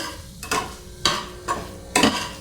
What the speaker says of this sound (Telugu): ఇప్పుడు లాస్ట్కి అయితే కలిసేలాగా ఇలా కలిపేసుకుంటున్నా